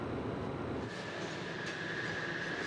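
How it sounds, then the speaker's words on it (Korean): Freight trains carrying containers toward the port of Vladivostok, a continuous rumbling roll of wagons on rails with a faint high metallic wheel squeal rising partway through, steady and moderately loud with no voices. "블라디보스톡 항구로 나아가는 컨테이너를 실은 기차들입니다."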